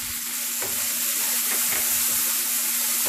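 Hing (asafoetida) with ginger, garlic and green chili paste sizzles steadily in hot oil, a continuous bright frying hiss with a few soft scrapes of stirring, close and fairly loud with no talking.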